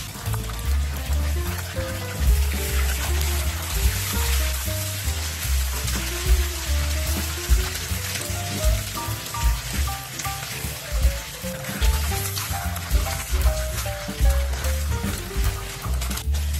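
Sea bass pan-frying in oil gives a steady, busy sizzle with crackling spatter, moderately loud and continuous under soft background music.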